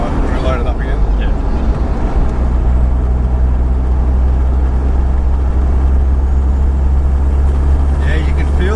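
A Toyota Surf with a 2L-TE turbodiesel pulls under load on the road, its steady, loud engine drone and low rumble filling the cabin with a rising whoosh of the turbo spooling; faint voices murmur underneath.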